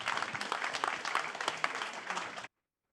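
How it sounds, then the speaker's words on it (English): An audience at the Monzo Investival 2019 gives a dense, sustained round of applause that cuts off abruptly into silence. "So one final massive round of applause for all of you"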